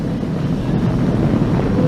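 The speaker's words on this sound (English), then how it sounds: "Flying crew on board Dragon and Falcon 9, and look at them go." SpaceX Falcon 9 rocket carrying a crewed Dragon capsule lifting off, a loud, steady, broadband roar and rumble heard from a distance with buffeting wind-like texture throughout.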